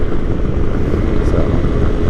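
A Honda CRF 250 Rally motorcycle rides along, its engine a loud, continuous rumble mixed with heavy wind roar, heard up close with no pauses.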